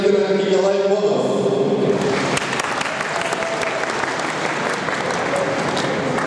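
An announcer's voice opens over crowd noise, then broad sustained applause breaks out from the audience at a parade of athletes, continuing evenly to the end.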